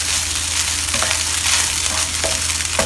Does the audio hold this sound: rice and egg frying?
yes